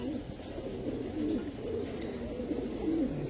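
Army pigeons coo softly in low, rolling repeated calls at a pigeon seller's, steady and fairly faint against a background murmur.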